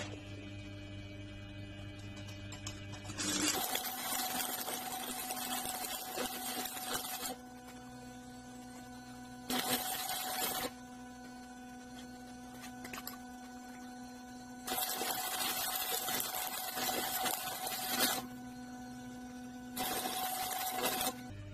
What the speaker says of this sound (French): Alors, et maintenant, on va les souder.